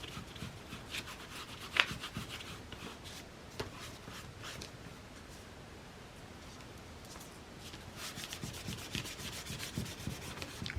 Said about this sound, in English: the rubbing it back and rubbing it into these paint strokes that I did on the plate